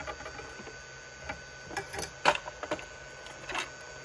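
A 3D printer homing its head for bed leveling gives faint, irregular mechanical clicks and short motor whirs, with a few sharper ticks standing out over a quiet hum.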